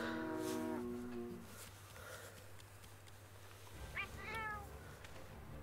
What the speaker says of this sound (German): Eine gruselige Katze.